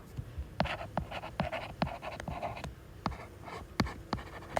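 A pen scratches out units on a paper worksheet in quick, irregular strokes and taps, close and fairly clear against faint room noise.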